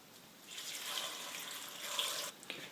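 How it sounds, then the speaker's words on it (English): Water from a tap runs steadily for about two seconds as six cups are measured out for a Czech leek soup, a bright hissing splash heard close up that stops with a few drips and no talking. "Let's add 6 cups of water"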